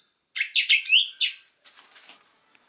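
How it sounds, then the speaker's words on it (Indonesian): A songbird just fitted with a leg ring sings a short burst of bright, close chirps and warbling notes, followed by faint rustling and fluttering, no voices present. "Burung masih gacor."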